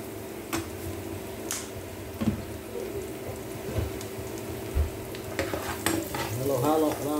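Ingredients for pancit sautéing in a pan, a continuous sizzle broken by repeated scraping and stirring knocks, with the frying growing louder and crackling near the end.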